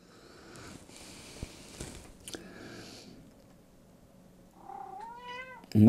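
A tomcat indoors gives a rising meow near the end of the clip, preceded by quiet rustling and soft handling noises, fairly faint and close by with no talk.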